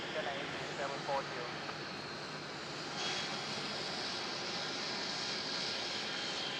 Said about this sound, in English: China Eastern 740, runway 16 cleared for takeoff.